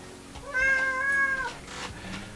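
A talkative pet cat named King lets out a single clear, drawn-out meow of about a second, close and loud against quiet surroundings.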